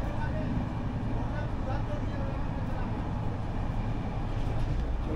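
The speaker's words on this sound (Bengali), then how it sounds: "75, 127, 126 স্পিডে চলছে আমাদের ট্রেন" A train from Kolkata toward Darjeeling rolls along at speed, a loud, steady rumble and rattle filling the space with a constant low roar.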